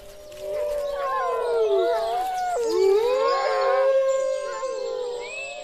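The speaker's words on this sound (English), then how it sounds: "Wolves still roam throughout the Dumitor Mountains, and their howl is a primal call of the wild" Wolves howl in the Durmitor Mountains. Several long, wavering howls rise and fall and overlap, carrying clearly through quiet air with no other sound.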